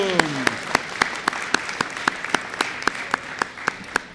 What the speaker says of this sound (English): Let's give one more big round of applause to Miss Vargas's homeroom.